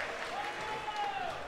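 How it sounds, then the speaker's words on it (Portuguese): Supporters at a Catarinense 2024 football match between Internacional and Barra clap steadily, a broad crowd applause with a faint whistle-like tone gliding over it. "Agora o torcedor aplaudiu."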